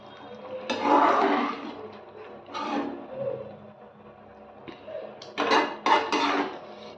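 A spoon stirs ivy gourd pepper gravy in a pan on a low simmer after ground pepper goes in, scraping and clattering in several loud bursts with short pauses between them and no talking.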